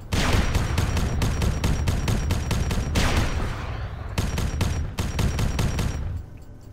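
Arma 3 gunfire during a military squad operation: rapid automatic bursts rattle in long, evenly spaced volleys, loud and close, broken by short pauses before the shooting resumes.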